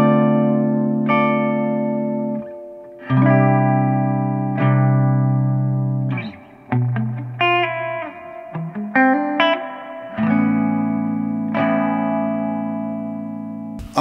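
Electric guitar through a Fender American Professional II amp, picked up by an RCA 74B ribbon room mic a couple of feet back and higher, giving more room ambience: long ringing chords broken by shorter choppy strums, loud and roomy, with no voice.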